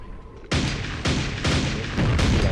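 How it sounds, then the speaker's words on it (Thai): Loud explosions from the video game Quake Remastered, four heavy booming blasts in quick succession, each striking sharply and rumbling on into the next, with no talk over them. "ระเบิด"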